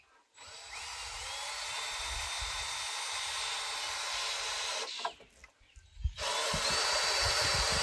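A power drill drives screws into pallet wood for a compost bin, a loud sustained whirring run of about four seconds, then brief clunks and a short pause before the motor spins up again; no voices.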